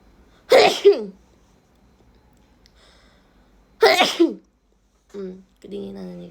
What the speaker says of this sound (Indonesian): Kau udah bersin kedinginan.